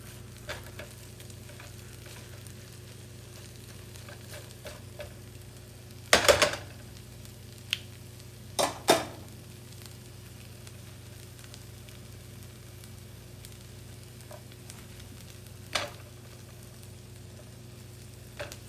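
Butter sizzles quietly in a pan under an everything bagel with melted cheese, a soft continuous fry with a low hum, broken by a few sharp clatters and scrapes of a utensil.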